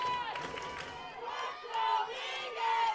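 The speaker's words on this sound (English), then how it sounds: "Crowd's getting into it." Spectators at a boys lacrosse section playoff game cheer and shout in a steady, fairly loud crowd roar with swelling bursts, while a commentator talks over it and a whistle-like tone sounds intermittently.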